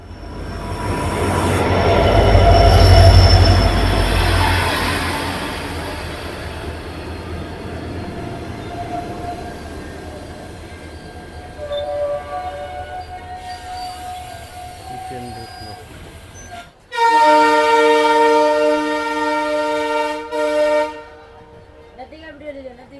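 The Kanchan Kanya Express, number 13149, rumbles loudly along the rails between Siliguri and New Mal Junction, wheels grinding and squealing, then pulls away to a lower clatter before a long multi-tone horn blast sounds.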